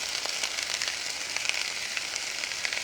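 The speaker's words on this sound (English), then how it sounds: "My oil is plenty hot now, so I'm going to just put in my onions. Doesn't that sound good?" Onions and red peppers sautéing in hot oil for shakshuka, giving a soft, even sizzle with faint crackles.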